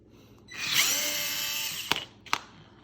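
A Worx 4-volt cordless screwdriver whirs for about a second and a half as it drives a screw into red oak, then stops, followed by two sharp clicks; close and alone with no talking.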